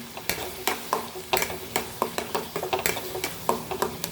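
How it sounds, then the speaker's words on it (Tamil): Grated coconut is sautéed in a pan for chana masala while a spoon stirs it, producing a steady rhythm of sharp scraping strokes over a soft sizzle, close and with no talking. "இந்த தேங்காவை போட்டு நல்லா வதக்கணும்"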